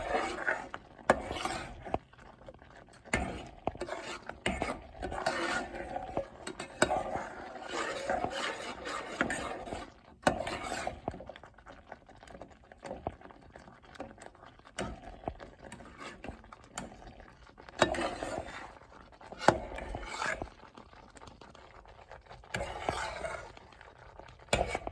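Refried beans in a pot are stirred and scraped again and again. Rasping spoon strokes drag across the bottom in irregular bursts over a quiet, low bubbling.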